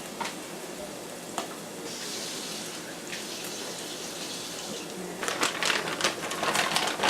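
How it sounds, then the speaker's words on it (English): Shrimp are rinsed under a running kitchen tap, a soft steady water flow with light clicks and splashes that grows louder and more splashy toward the end. "I'm going to go rinse them off really quickly."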